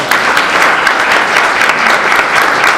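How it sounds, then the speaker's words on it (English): An audience gives a lecture speaker a big round of steady, close, loud applause throughout, with no talking over it. "I think we need to give Dr. Kirk a big round of applause."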